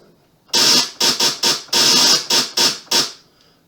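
Loud synthesized white noise blasts in eight sharp, hissing bursts of uneven length, each starting abruptly and cutting off, with brief near-silence between them and a faint tail at the end.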